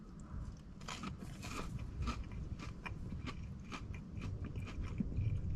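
A KFC Kentucky Fried Donut with a crunchy outer coating is bitten and chewed, giving a series of close, soft crunches in an otherwise quiet room.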